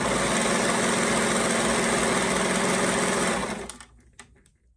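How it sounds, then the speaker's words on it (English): A serger stitches and trims the seam allowance along a seam of a halter-top mermaid prom gown, a loud, steady, continuous motor whir that runs for several seconds, then stops, followed by a few faint clicks. "my needle is just going to be going over that same seam and cutting off all the seam allowance to the right of it"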